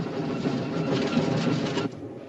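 A steam train from a 1959 film set on India's North West Frontier rolls steadily along the rails, a dense rumbling clatter with faint rhythmic clicks, fairly loud and close, easing off slightly near the end.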